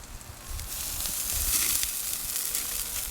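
Stout beer hitting asado-style ribs on a grill over an open fire, a loud, dense sizzle and hiss that swells and holds steady throughout, close up with no talking.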